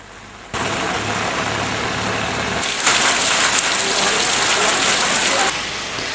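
Heavy rain pours down steadily during flooding in Ratnapura, a loud dense hiss that starts abruptly and then grows brighter and stronger midway before easing, with no voices.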